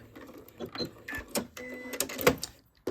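A sewing machine stitching a door latch cover in short stop-start runs, with reversing over the seam, close and moderately quiet, with faint handling clicks between bursts.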